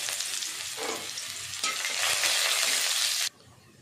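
Grated garlic and dried red chillies hit hot oil in a pan, where a fish was fried just before, bursting into a loud, steady sizzle that swells midway and then cuts off sharply.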